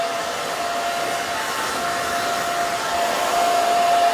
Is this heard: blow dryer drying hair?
yes